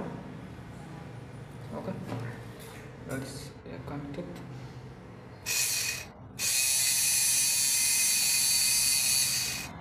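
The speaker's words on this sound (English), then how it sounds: "motor is demanding high current, so you can see here is spark. It's a heavy spark." 775 DC motor with double-layer winding running at very high RPM and drawing heavy current, its brushes sparking hard. Muffled voices and clatter come first, then a short loud burst and a sustained harsh, hissing whir to the end.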